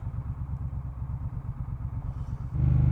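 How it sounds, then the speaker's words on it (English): A Triumph Scrambler 900 motorcycle engine gives a steady, low pulsing rumble that swells noticeably louder near the end. "Oh, to be on a motorbike!"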